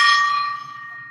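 A meditation gong struck once during a zodiac reading session, ringing with a bright metallic tone that decays steadily over about a second, alone without talk.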